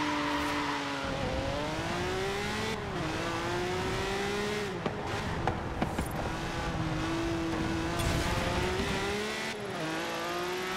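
A Honda NSX in Forza Horizon 4 drives along, its engine revving up and dropping through several gear changes, loud and close, with brief bumps and a tire noise around the middle.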